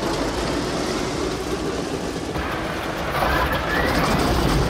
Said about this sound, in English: B-17 engine.